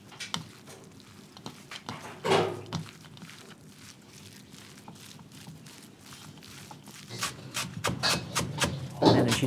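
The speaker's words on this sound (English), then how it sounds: "And then she's chopping up the sawtooth coriander." Knife chopping sawtooth coriander at a busy street-food kitchen in Chongqing, China, where chili fried chicken is made: a run of quick, close thuds and clicks on a board, with a heavier burst of cuts near the start and the end.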